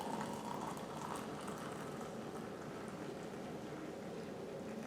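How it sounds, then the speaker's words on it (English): Freshly boiled water poured into a cup holding a quarter cup of mimosa tree flowers, a steady continuous rushing, bubbling pour, close and even throughout. "My water has just reached a boil, so let's pour it in here"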